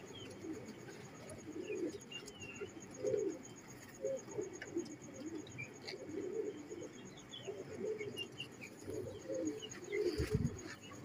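Teddy pigeons cooing in a loose, repeating rhythm at moderate distance, soft and steady with faint chirps from other birds in the background.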